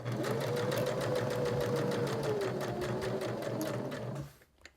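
A sewing machine runs steadily, stitching a seam around a fabric turtle-shaped mop project at full width of the presser foot, a rapid even mechanical whir with a faint rising motor whine that continues for about four seconds before stopping.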